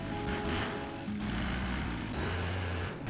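A restored abandoned car driven over rough, loose-soil terrain on a test run, its engine droning steadily and close with a shifting low rumble throughout, no voices.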